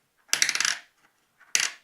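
Mexican peso coins dropped and jingling together, a bright metallic clatter with several quick rattles, followed a moment later by a second shorter burst, close and clear.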